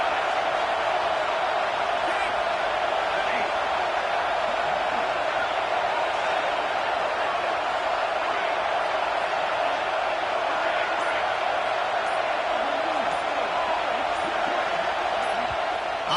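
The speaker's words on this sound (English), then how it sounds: "Decibels rising as the crowd gets behind this defense on 3rd down" A football stadium crowd roars steadily in support of the defense on third down, a dense, sustained wall of cheering and noise that holds at high level throughout with no clear breaks.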